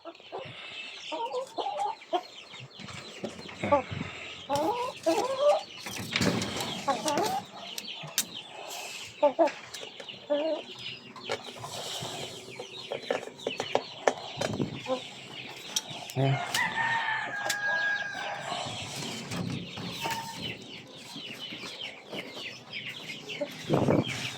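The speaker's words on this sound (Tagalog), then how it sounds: "Ang ating Jersey Giant." Jersey Giant chickens clucking and calling in a backyard farm, with a rooster crowing among busy, overlapping hen chatter that carries on throughout.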